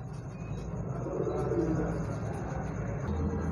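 A pair of pigeons coos steadily throughout, soft low throaty calls close by over a constant background hum, with no talking.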